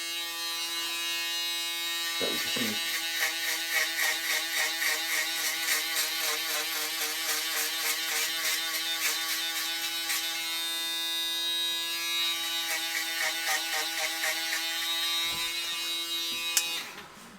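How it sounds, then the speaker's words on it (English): A close electric shaver buzzes steadily as it cuts hair during a self-administered burst fade, its motor drone pulsing slightly as it moves along the hairline, with a brief spoken remark near the start. "Next up, shaver, and same thing, just going around that line"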